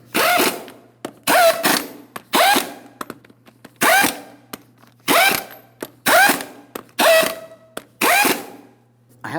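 A power tool ratchets in repeated short bursts, roughly nine pulses, lightly running down the 22mm lug nuts on the rear wheel of a 2007-2014 GMC Sierra 2500 HD, loud and close with a faint steady hum between.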